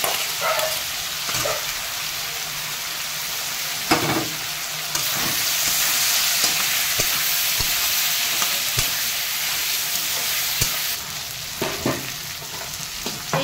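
Boiled chicken and liver fry in sautéed spices, a continuous loud sizzle with periodic scraping and knocking from stirring, no voices.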